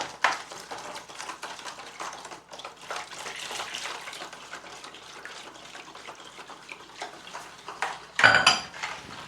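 Bread dough mixture with margarine is stirred slowly in a bowl, giving soft, steady scraping and clinking, with a sharper, louder clatter near the end.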